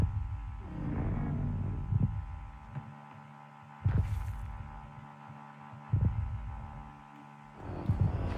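A creature's heartbeat in the horror video game The Way Out: Backrooms, slow heavy thumps repeating every two seconds or so over a low droning hum, with no voices.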